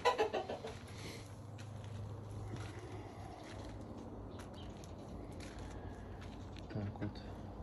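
Chickens cluck inside a village coop on a morning in a Kazakh settlement, a steady low flock murmur under background noise and faint voices, with a louder burst at the start.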